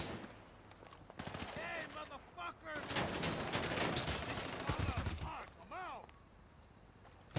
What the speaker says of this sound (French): je tire au hasard là